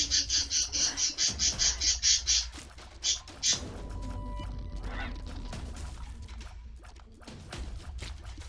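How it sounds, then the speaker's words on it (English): An upset pet bird lets out a rapid series of about ten loud, shrill calls in a steady rhythm, then two more isolated cries, followed by quieter room noise. "I'm telling you, this is one upset bird."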